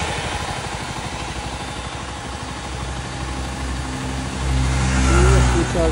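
A Zontes C 125 motorcycle engine runs in the street at a steady idle, then swells into a louder rev near the end, close by.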